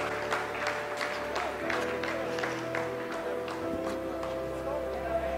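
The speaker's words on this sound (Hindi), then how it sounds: "आप इस तालियों के गड़गड़ाहट को सुन सकते हैं जो कि सेकेंड हाइवरिक फेज के कंप्लीट होने के बाद इन सारे वैज्ञानिकों के द्वारा की जा रही है।" Scientists at ISRO mission control applauding during a lunar landing descent, many people clapping in a room with sharp separate claps over a steady electronic hum, while a voice talks over the applause throughout.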